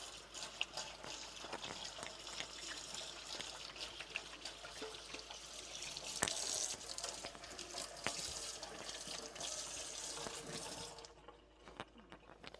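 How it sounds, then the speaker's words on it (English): Tap water runs steadily into a kitchen sink while hands are washed, a quiet continuous splashing and trickling with occasional sharper knocks, ending as the flow stops. "I just wash off my hand."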